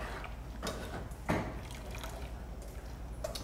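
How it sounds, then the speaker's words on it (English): Blanched greens tipped from hot water into a pasta strainer during home cooking, a few wet splashes and drips with one sharper slosh in the middle, fairly close and moderately quiet over a low background hum. "Now let's strain them with this pasta strainer."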